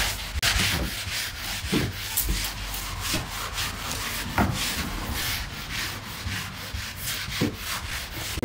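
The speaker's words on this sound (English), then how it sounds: "We're just quickly wiping away the residues." Wooden floorboards are scrubbed and wiped clean of glue residue, making a steady, close rubbing and scraping sound in repeated back-and-forth strokes with no talking.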